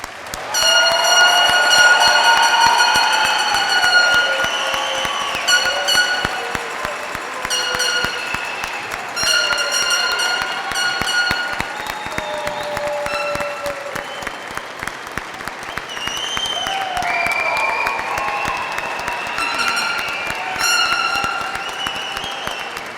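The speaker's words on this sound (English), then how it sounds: "Everyone, please join with me as we honor all graduates with a well-deserved round of applause." A commencement crowd at Chadron State College gives a long round of applause for graduates, continuous and fairly loud, mixed with bright sustained music tones over the clapping.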